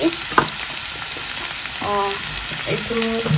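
Onions fry in a pan for an Odia dahibara aloo dum, crackling and sizzling steadily close up, with a few scraping stirs and brief clinks mixed in.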